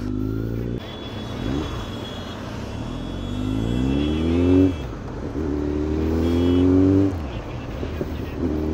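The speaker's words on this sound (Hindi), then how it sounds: "तो भाई अपन चला रहे फर्स्ट टाइम Z900।" A Kawasaki Z900 motorcycle on the move, its engine loud and close, rising in pitch through repeated accelerations with short dips between gear changes and wind rush behind it.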